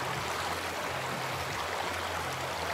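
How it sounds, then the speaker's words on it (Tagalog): Cold river water flows in a steady, continuous rush and gurgle with no pause. A faint low hum runs underneath it. "Sobrang lamig yung ilog dito guys sa amin."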